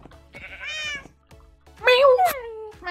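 A cat meows in Minecraft Farmhunt, two distinct meows, the second louder and longer; likely a voice imitating the game cat, with faint game sounds underneath.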